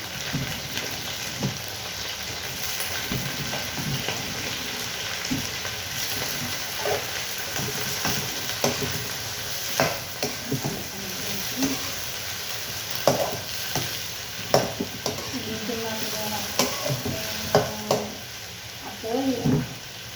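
Shrimp with onion and garlic fries in a pan with a continuous sizzle, broken by irregular stirring scrapes and utensil clinks, while a person talks intermittently.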